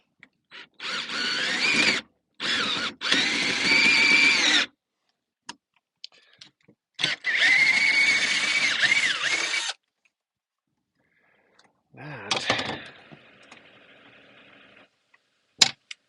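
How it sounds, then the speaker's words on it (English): A power drill whines in several long bursts separated by pauses, grinding through thick diamond plate steel; loud and close, with a brief weaker burst near the end. "I just have a crappy drill"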